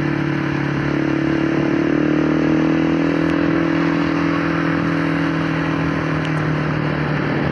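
A Suzuki Satria FU motorcycle fitted with new clutch plates holds a steady, loud, buzzing engine note close up, revving continuously without speech.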